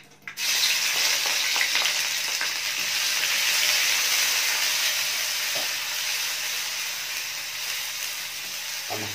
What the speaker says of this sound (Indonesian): Oke, saya tumis ini.